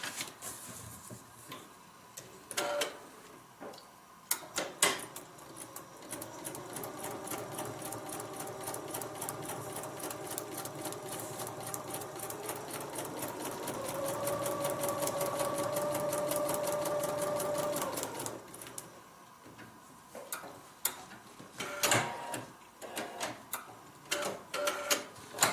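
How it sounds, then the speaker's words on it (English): Sewing machine stitching fabric along a line on a paper-pieced log cabin heart quilt block, a fast, steady mechanical whirring with short pauses and restarts, close and fairly loud with no talk over it. "Flip it over, stitch on the line."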